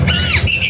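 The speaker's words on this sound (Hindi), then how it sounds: "एक से एक सारे तोते हैं, एक से एक पैरट्स हैं।" Parrots at an aviary or bird market, with blue and green birds among them, give a loud, harsh squawk that fills the short moment close by, with no talking over it.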